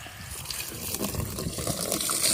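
Clean water poured over a rusty part to soak it, heard outdoors as a steady, close gushing and splashing flow that swells slightly louder toward the end.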